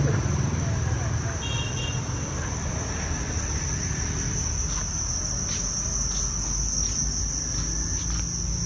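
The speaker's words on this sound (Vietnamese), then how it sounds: "Đây là dế con nó nở." Newly hatched baby crickets at a cricket breeding farm chirping in a dense, continuous high trill, loud and steady throughout, with faint low rumble beneath.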